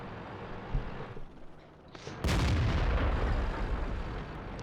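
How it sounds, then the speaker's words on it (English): Artillery fire in the World of Tanks video game: a muffled boom, then a sudden loud blast that settles into a sustained rumbling roar of battle noise, with no talking. "Looks like our artillery hit our own guy there."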